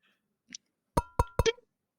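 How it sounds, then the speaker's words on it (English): A bird pecks on glass in a quiet room, three sharp, bright taps in quick succession after a faint earlier tick. "as this bird just begins to peck into this glass"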